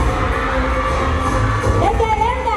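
A packed crowd of supporters cheers and shouts at a Miss Hmong Lao 2020 beauty pageant, a dense, steady roar of voices that holds loud throughout.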